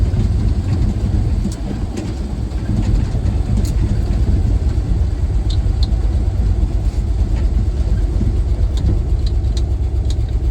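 An old dump truck's engine runs steadily and fairly close, a continuous low rumble that holds level throughout with no voices over it.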